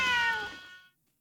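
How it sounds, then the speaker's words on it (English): A single drawn-out cat meow from the life-sim game My Time at Sandrock, clear and fairly loud, starting bright and trailing off into near silence with no voices. "Help me get this cat out of here."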